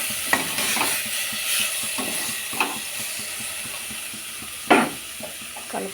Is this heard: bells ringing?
no